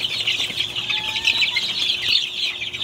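Banahaw bloodline chickens clucking and chirping together in a crowded pen, a continuous close flock chatter with scattered higher calls and no talking.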